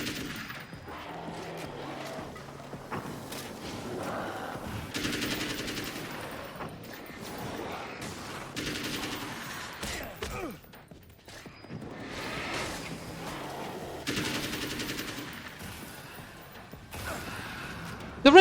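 Video game gunfire and grenade blasts from Control, bursts of rapid shots and whooshes in several loud clusters separated by quieter stretches.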